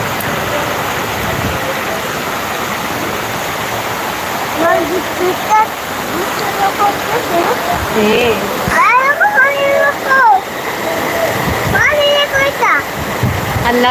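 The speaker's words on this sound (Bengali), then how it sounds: "বাইরে অনেক বৃষ্টি করতেছে" Heavy midday rain pours down outdoors in a dense, steady hiss of water, with several voices talking over it nearby, including a child.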